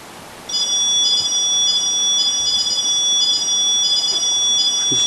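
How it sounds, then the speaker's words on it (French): A smoke or fire detector beeps upstairs in a house, a steady run of thin, high electronic tones repeating in a regular pattern, heard from a distance over a constant low room hum. "J'entends le biper."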